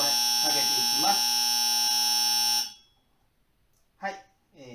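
An earth leakage fire alarm receiver buzzes with a steady, loud electronic tone during an operation test, then cuts off abruptly, followed by a quieter pause and brief speech.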